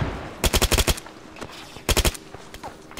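Automatic gunfire in the military shooter Arma 3 comes in two rapid bursts of about five or six shots each, loud and close, with a faint distant shot between them.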